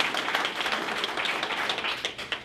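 An audience at a 2015 Frisco school district candidate forum applauds, with many quick overlapping claps forming a steady, moderately loud patter from start to finish.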